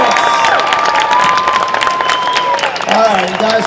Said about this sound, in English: just one more time, a big round of applause